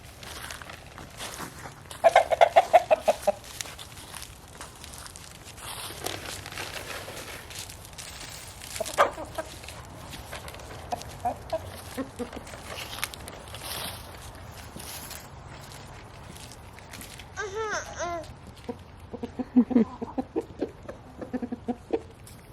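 Chickens cluck and squawk inside a chicken coop under renovation, with scattered bursts of calls rising over a low, steady background noise throughout.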